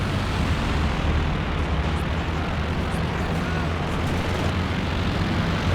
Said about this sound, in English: this strafe is so deep into VonIvan's territory, covering basically his entire base as well